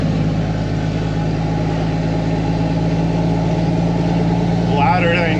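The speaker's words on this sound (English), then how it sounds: "the exhaust is broke on the red dump truck" A dump truck engine with a broken exhaust idles with a loud, rough, rumbling exhaust throb that holds steady throughout.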